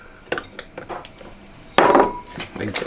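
Chilled salted butter pieces are tossed into galette dough in a bowl, giving a few light knocks and clinks followed by a louder rustling, thudding burst of mixing up close.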